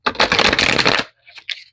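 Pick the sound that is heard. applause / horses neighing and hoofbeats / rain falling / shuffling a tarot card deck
shuffling a tarot card deck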